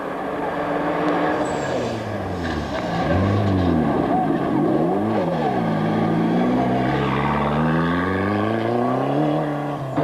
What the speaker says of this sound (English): Dabner cautiously guides his Conquest through stage 28